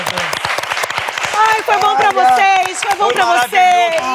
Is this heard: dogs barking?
no